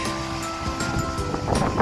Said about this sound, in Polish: No bardzo wieje właśnie.